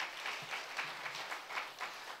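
A church congregation claps during a sermon, a steady patter of applause with rhythmic swells at moderate distance, fairly faint and even throughout.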